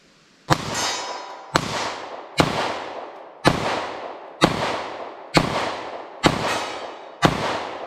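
Eight evenly spaced 9mm pistol shots firing standard pressure Gold Dot ammunition, each a sharp loud crack with a short ringing tail, about one per second, no talking.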